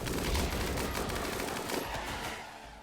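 Sustained gunfire from a battle in the video game RimWorld, with dense overlapping shots that form a continuous loud fusillade lasting the whole stretch.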